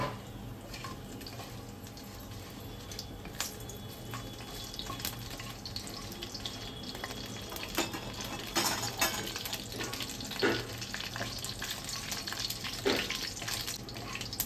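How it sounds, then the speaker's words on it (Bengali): Bay leaves, dried chilli and five-spice sizzling in hot oil in a pan, a steady faint frying crackle with a few louder pops and stirring clatter, no voices. "এর মধ্যে আমি 5 ফোড়ন দিয়ে দিচ্ছি।"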